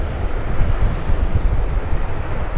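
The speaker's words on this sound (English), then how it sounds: "we're at the ocean and it's super noisy" Surf breaking on an ocean beach with steady wind buffeting the microphone, a loud continuous rumbling wash of waves and gusts throughout.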